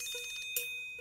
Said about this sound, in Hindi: ये फोन मैसेज है